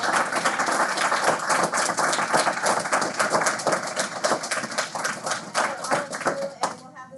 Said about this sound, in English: I want to just give a big round of applause.